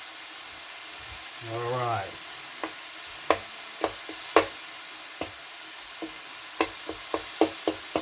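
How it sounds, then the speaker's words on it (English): Meat sizzles and fries on a hot griddle with a steady broadband hiss, punctuated by sharp clicks and knocks of a utensil; a voice speaks briefly near the start. "you can see the steam coming up off of this griddle with all this sizzling and all this frying."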